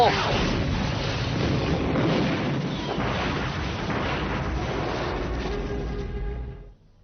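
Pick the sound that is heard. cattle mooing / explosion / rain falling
explosion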